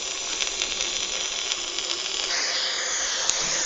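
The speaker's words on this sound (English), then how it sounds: "Last bits of steam and air and whatever water's left." Steady hiss of steam, air and leftover water draining from a Virginia steam locomotive, a continuous rushing noise with faint rattling and clicking at moderate distance, no talk.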